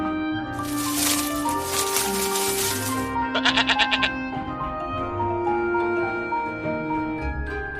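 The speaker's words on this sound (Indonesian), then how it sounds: "Ada domba jantan yang tanduknya tersangkut di belukar." A ram bleats during a Bible story told at an Indonesian Sunday school, a loud wavering bleat near the start, followed by a short pulsing rattle, all over a steady background of music.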